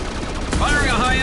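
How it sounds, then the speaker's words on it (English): Gunfire in the Mass Effect 2 video game, a loud burst of shots with a dense crackling blast and sweeping electronic tones, a voice speaking alongside. "Firing a high-impact shot!"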